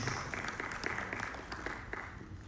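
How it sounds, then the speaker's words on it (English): Audience applause at a green building session in BKC, Mumbai: a steady wash of many hands clapping at moderate, somewhat distant level, continuing evenly with no clear start or finish. "Just give a round of applause to the people who got this."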